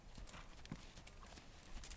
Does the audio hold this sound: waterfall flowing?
no